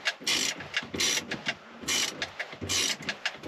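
Rapid ratcheting clicks from a 1/4-inch socket ratchet turning a bolt on the steering column of a 1991 GMC Sierra, in close bursts with short pauses between strokes, no talking.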